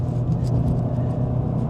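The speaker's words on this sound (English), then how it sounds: "The 2-litre EA 888 engine." A 2-litre VW EA888 engine in a Golf GTI runs at a steady idle-to-cruise, a continuous low rumble and hum close by with no change in pitch.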